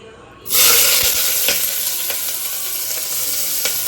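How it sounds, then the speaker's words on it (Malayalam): Green chillies and onion drop into very hot oil for a tomato rice dish, bursting into a loud, steady sizzle with a few sharp spatter pops. "അപ്പോൾ അതിലേക്ക് ഞാനിത് ആദ്യം നമ്മുടെ പച്ചമുളകും സബോളയും ഇടാൻ പോവുകയാണ്."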